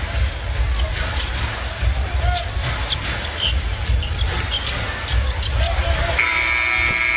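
An NBA game buzzer sounds at the end of a period in a Brooklyn Nets versus Houston Rockets game, a steady tone arriving after sneaker squeaks and arena crowd noise.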